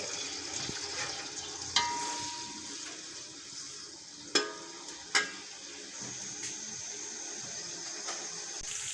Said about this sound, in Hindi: प्याज को अच्छे से ब्राउन करेंगे।